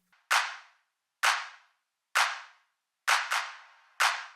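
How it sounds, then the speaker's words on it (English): A dry clap sample struck five times at a roughly steady pace, the fourth a quick double, each hit blooming into a short reverb tail from a Valhalla Room plugin before silence. "Let's take a listen to how this clap sounds into this reverb."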